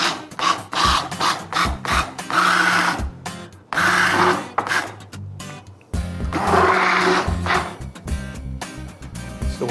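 A kitchen appliance chopping tomato chunks for a macaroni casserole, running in loud, close pulsed bursts of a few seconds each, separated by short pauses, with a grinding, whirring texture.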